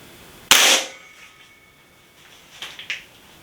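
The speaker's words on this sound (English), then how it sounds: "let's just do one last test shot and see if we're on target" A single sharp Umarex Forge air rifle shot fires close and loud, its crack fading quickly, followed after a pause by a few faint, brief taps.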